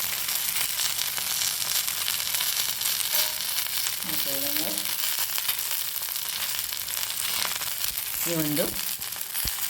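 Kallur fish frying in oil in a pan, a steady, loud sizzle filling the clip, with a few brief spoken words and two short tonal sounds in the background.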